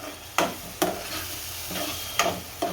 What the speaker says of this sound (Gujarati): આપણે જે ગ્રેવી કરી હતી દહીંને એ નાખી દઈએ અને હલાવી નાખશું સારી